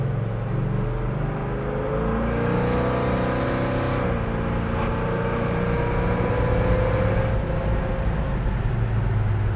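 A 1967 Pontiac GTO engine pulls steadily through the gears with a continuous, full-bodied roar, rising in pitch then dropping at shifts, heard from inside the car at highway speed over road and wind noise.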